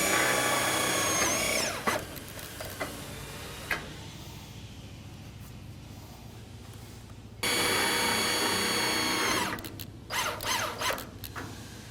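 A power drill drives a pan head screw into head trim on a framed opening. Two close, buzzing bursts of driving are separated by a quieter stretch with faint handling noise, and scattered clicks follow.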